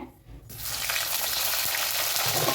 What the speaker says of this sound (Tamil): போட்டு நல்லா வதக்கலாம் கோவக்காயை இந்த ஆயிலே கோவக்காய் நல்லா வதங்கணும்